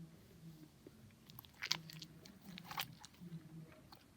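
Quiet, close chewing and crunching on a small watermelon-flavored candy cane, with a couple of sharper bites midway and soft mouth sounds in between, no talking.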